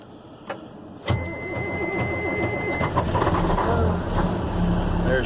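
A 1996 Volvo VE D12 diesel truck engine cold starts after glow plugs and grid heater: a sharp crank and catch, then a steady, rumbling idle up close, with no speech.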